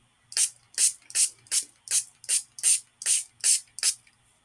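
Ten sharp, evenly spaced spritzes of water from a spray bottle onto paper for watercolor work, close and crisp with brief silences between bursts.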